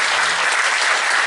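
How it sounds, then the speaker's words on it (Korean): A church congregation claps together in thanks during an afternoon worship service, a steady, dense, loud wash of applause with no voices. "감사하다는 박수를 한번 보냈습니다."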